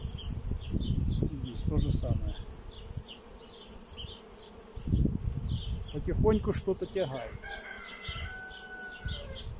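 Honey bees buzz around frames lifted from a hive, a steady insect hum sitting under intermittent close-up talking and handling noises.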